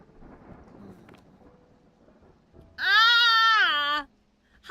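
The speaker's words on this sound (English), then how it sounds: "Lightning and thunder." Thunder rumbles low and steady with rain in a video game storm set near mountaintops, and partway through it is cut across by a loud, high, drawn-out voice-like cry.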